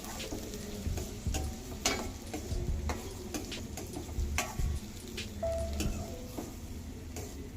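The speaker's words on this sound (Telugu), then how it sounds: "ఇది బాగా మనకు ఫ్రై అవ్వాలి ఆనియన్స్ అనేది." Sliced onions fry in hot oil in a pan and are stirred now and then, a steady close sizzle marked by sharp scraping clicks of the spoon, with no talking.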